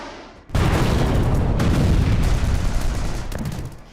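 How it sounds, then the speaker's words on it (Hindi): A sudden loud blast of guided Iron Sting artillery shells striking ground in Gaza, booming and rumbling heavily for several seconds before slowly fading. "आयरन स्टिंग रॉकेट की तरह ही गाजा की जमीन पर गिर रहे हैं और इस तरह के जोरदार धमाके हो रहे हैं"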